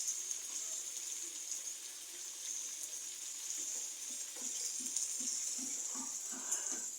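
Water is poured into a cooking pot over a steady frying hiss, with soft low splashes and bubbling building up during the second half, at a moderate distance.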